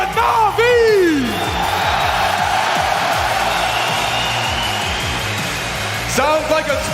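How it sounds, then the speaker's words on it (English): A large arena crowd at a CS:GO Major in London roars and cheers for MiBR and NaVi, a sustained loud wash of voices with whoops and yells rising at the start and end. "Sounds like a split crowd."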